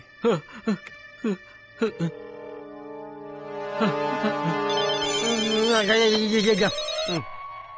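A phone ringtone plays: a few short spaced beeps, then a longer sustained melodic tune that cuts off abruptly near the end.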